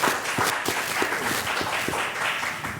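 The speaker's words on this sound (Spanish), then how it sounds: "un fuerte aplauso" An audience at a legislative forum applauds, a steady wash of clapping with some individual claps standing out, moderately loud and continuous throughout.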